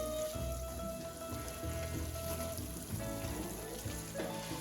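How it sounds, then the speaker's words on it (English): Onion and red pepper sauté in a pan with a steady, soft crackling sizzle that runs on evenly without any speech. "We're gonna go ahead and just saute these up for a little while"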